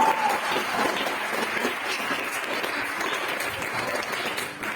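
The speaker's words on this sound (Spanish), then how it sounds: "Denle un aplauso al Señor." A church congregation applauds the Lord in steady, dense clapping that fills the room at an even level throughout, with faint voices mixed in.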